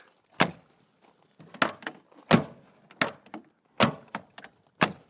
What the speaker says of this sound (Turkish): Bakın kapıların sesine dikkat edin.